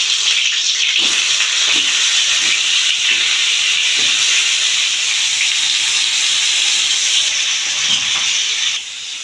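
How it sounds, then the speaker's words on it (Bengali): Pointed gourd (potol) pieces fry in hot oil in a kadai for a potol dorma, giving a loud, steady, dense sizzling hiss close up that continues almost unbroken, with faint occasional clinks and no talking. "তেল গরম হয়ে গেছে, পটলগুলো আমি ভেজে নেব।"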